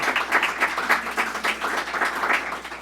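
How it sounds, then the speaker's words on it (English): An audience at a governor's youth mental health announcement breaks into sustained applause, a thick, even stretch of many hands clapping together, fairly loud. "So let's give a round of applause to everyone who's part of this great organization."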